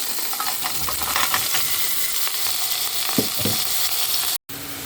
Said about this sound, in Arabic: وافضل اقلب بالشكل ده لغاية البصل بتاعي ما ياخد اللون الذهبي